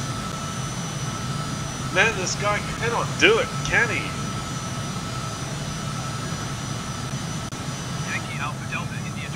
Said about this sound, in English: We've thrown the throttles all the way back up. And he is going for the go-around.